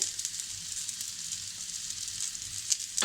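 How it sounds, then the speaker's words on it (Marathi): Fresh grated coconut roasting in a pan with onion, ginger and garlic for a Malvani clam curry, a steady close hiss of dry sizzling throughout, no talk. "ओलं खोबरं सुद्धा आपल्याला व्यवस्थितपणे असं लालसर रंगाचं येईपर्यंत भाजून घ्यायचं आहे"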